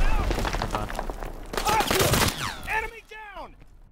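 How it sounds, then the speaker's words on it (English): Rapid bursts of gunfire in a WW2 shooter, repeated sharp shots and automatic fire up close, with shouting voices and whistling ricochet-like sweeps toward the end. "I'm fucking putting bullets into these guys."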